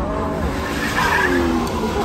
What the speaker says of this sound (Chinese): 还故意打滑轮胎嘞